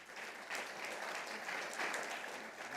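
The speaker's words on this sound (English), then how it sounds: "I would like one final round of applause" A symposium audience claps steadily at an anniversary event marking the end of the war, a broad even wash of hands without voices, somewhat distant and moderately quiet throughout.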